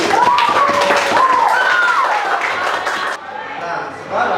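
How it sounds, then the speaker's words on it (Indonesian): A classroom group claps together in a brisk, dense patter for about three seconds, with a raised voice sounding over the clapping before it thins out and stops. "Oke, sekarang beri tepuk tangan lagi."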